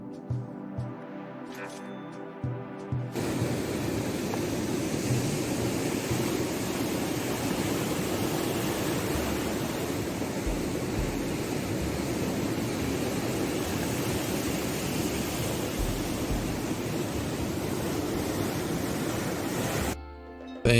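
A continuous roar of ocean surf and breaking waves follows a brief stretch of faint melodic notes, staying steady and full for nearly twenty seconds before stopping suddenly.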